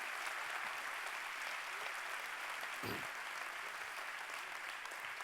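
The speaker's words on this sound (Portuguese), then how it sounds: "vamos aplaudir com as mãos ao nosso Deus" Steady applause from a church congregation, dense and continuous clapping throughout, moderately distant with a soft thump partway through.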